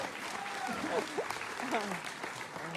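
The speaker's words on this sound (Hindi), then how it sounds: "ताली बजाओ सर के लिए, जोरदार ताली, जोरदार ठोको।" Faint, dense audience applause forms a continuous hiss of many hands, with a voice speaking over it throughout.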